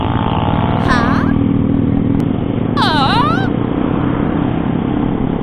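A Honda CBR sport motorcycle hums along on a ride, a steady engine drone with wind noise, while other vehicle tones briefly sweep past around the first and third seconds.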